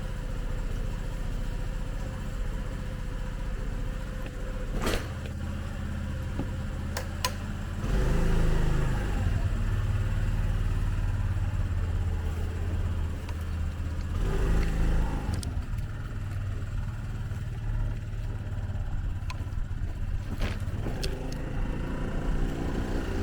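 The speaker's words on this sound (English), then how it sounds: "We're rolling. Let's see how this little bike handles." A small Honda Navi motorcycle ridden, its engine humming steadily and close, swelling in revs at times and then settling back.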